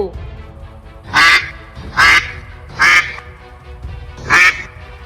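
A cartoon mother duck quacks loudly four times in a slow, uneven series, each call harsh and close against a quiet background.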